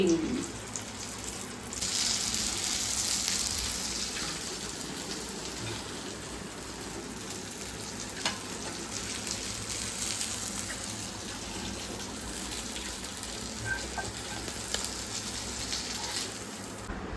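Fish frying on a non-stick tava, a steady hissing sizzle with fine crackle, loud at first then settling into an even continuous fry close by.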